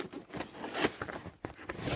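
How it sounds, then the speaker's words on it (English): Cardboard packaging of a wireless keyboard and mouse set being opened by hand, with irregular close crinkling, tearing and rustling bursts, a couple of sharper rips standing out over two seconds. "Let's open up the box."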